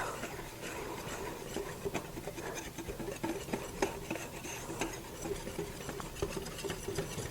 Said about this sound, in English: We're going to whisk this together really good.